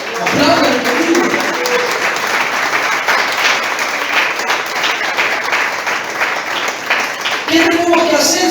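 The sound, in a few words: congregation applauding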